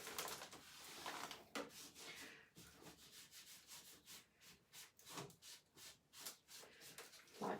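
Baby wipes rubbing wet Dixie Belle chalk mineral paint off painted furniture in quick, repeated scrubbing strokes, soft and close, with a brief pause between rhythmic passes.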